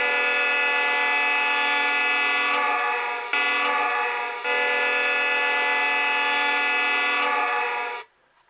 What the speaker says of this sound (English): Now that's horn number 2.